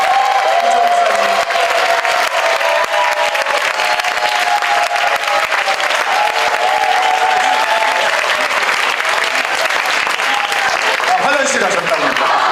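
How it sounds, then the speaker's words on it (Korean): Loud, continuous applause with scattered cheers from a church leadership-training audience greeting a pastor, a dense crowd clapping that holds steady throughout, with a voice faintly over it. "여러분 조이풀 박수와 환호로 맞아주시면 감사하겠습니다"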